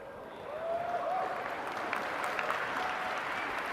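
A large audience applauds the unveiling of the Wii U controller at a game press event, a dense, distant wash of clapping that swells and holds steadily throughout.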